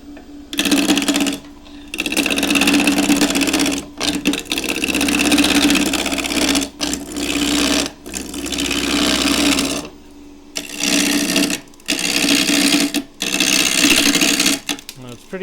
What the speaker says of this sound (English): I'll rough down this with a skew chisel. Start slow and wind it up.